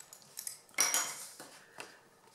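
Paper card being cut for a mini card box, a few short crisp snips and slicing strokes close by, quiet and alone.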